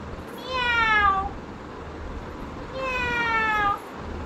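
A young child imitates a cat's meow, two drawn-out, high-pitched meows with a pause between them, close to the microphone.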